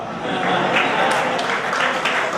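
An audience claps at a Kavyanjali poetry recital at SKIET, Kurukshetra, with dense, steady applause filling the hall and voices mixed in.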